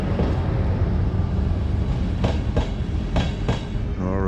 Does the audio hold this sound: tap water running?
no